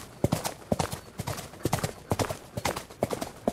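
A horse's hooves pound in a quick galloping rhythm, clear and fairly close, repeating in triplet-like bursts with no voices.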